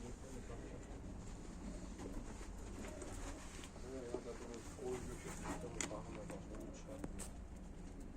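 Seferli fancy pigeons with feathered feet coo steadily in a loft, a soft continuous murmur of several birds under a voice speaking close by.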